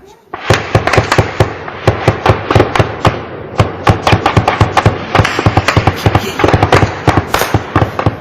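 Gunshots during an armed clash in Rajouri, Jammu and Kashmir: a long run of loud, sharp cracks in quick, uneven succession, close and echoing.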